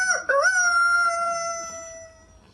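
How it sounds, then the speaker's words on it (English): A rooster crows a single long cock-a-doodle-doo, loud and close, with a sharp broken start that settles into a sustained call and trails off, heard alone with no talking. "Rooster. Listen to the rooster."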